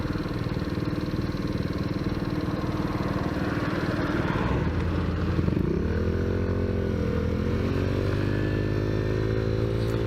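A Tao Tao Zummer scooter engine running while riding, a steady close buzzing drone that rises and sweeps in pitch as the throttle changes, continuous for the whole stretch.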